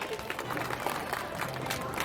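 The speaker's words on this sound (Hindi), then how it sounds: "जोरदार तालियां हो जाए एसडीएम सौरभ जसल जी के लिए" An audience at a community cycling event in Theog gives a quiet, steady round of clapping for the SDM, heard at a distance as a continuous patter.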